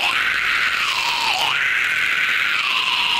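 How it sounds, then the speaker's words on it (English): A sustained high fry scream sung with nasal placement, loud and continuous, its pitch dipping once midway and then rising again, with no talking. "That's where we place the high scream."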